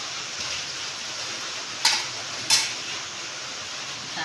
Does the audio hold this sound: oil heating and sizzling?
yes